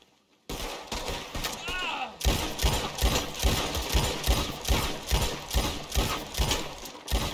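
Repeated gunshots during a duel in Red Dead Redemption 2 come as a steady string of loud, sharp cracks after a short quiet opening. A brief tonal sound appears just before the shooting starts.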